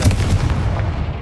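A Confringo spell blast in the video game Hogwarts Legacy gives a brief, close booming burst with several quick thumping impacts that fade within about a second.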